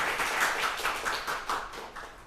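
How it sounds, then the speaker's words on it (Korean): Applause from a small church congregation greeting a first-time visitor, a steady patter of many hands clapping at moderate level with no one speaking over it. "박수로 환영하겠습니다."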